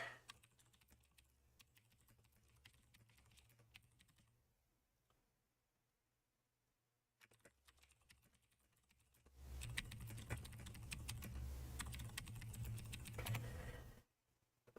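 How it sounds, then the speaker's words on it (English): Typing on a tenkeyless computer keyboard, quiet rapid clicks in bursts with pauses, then a louder stretch of clattering keystrokes against a low hum. "I'm sure you can hear the keyboard because I decided to switch to my 10 keyless board"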